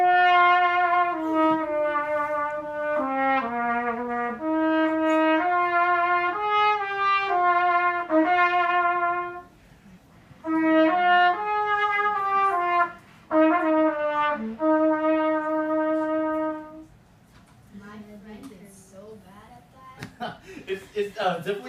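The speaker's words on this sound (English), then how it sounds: "So, this is the trumpet." A trumpet plays a series of bright sustained notes and short phrases, loud and close, with brief gaps between passages, then trails off into quiet rustling near the end.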